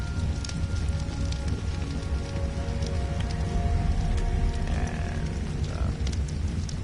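Rain falling in the survival video game Ark, a dense, steady hiss of rainfall that continues unbroken, with faint game sounds layered beneath it and no voices.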